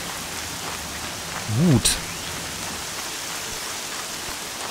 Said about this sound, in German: Noch mehr Regen.